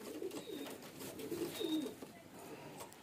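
Male fancy pigeons coo softly on a rooftop loft in Chhabra, Rajasthan, a few low, throaty murmuring calls close by amid faint background noise.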